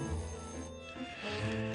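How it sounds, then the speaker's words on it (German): A telephone rings with a loud, sustained electronic bell tone, close and continuous, the ring shifting partway through. "als das Telefon klingelte"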